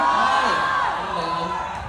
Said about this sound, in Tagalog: may sumisigaw na ng more